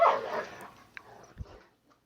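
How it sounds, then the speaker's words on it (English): Excited dogs give a quick loud bark or yip up close, followed by fainter whimpers and a soft thump as the sound fades out within two seconds. "Sorry, the dogs are going crazy."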